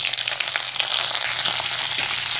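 Cauliflower frying in a pan with red chilli and cloves, a steady loud hiss and crackling sizzle close up, with soft stirring scrapes and no talking.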